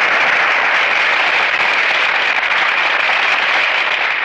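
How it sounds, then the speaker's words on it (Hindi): A stadium crowd at a cricket match rises to applaud and welcome the prime minister, a dense, loud, unbroken wash of clapping from many hands, steady throughout with no voices. "लोग उठकर तालियों से उनका स्वागत कर रहे हैं"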